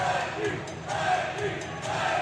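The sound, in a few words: hockey crowd chanting Reggie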